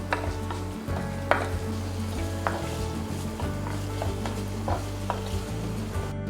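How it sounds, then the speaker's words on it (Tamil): Onions stir-fried in a clay pot for pepper chicken, a soft continuous sizzle broken by repeated scraping stirs and light clinks of a spoon against the pot, close by. "வெங்காயம் நல்லா பொன்னிறமாக வர நல்லா வதக்கிக்கோங்க"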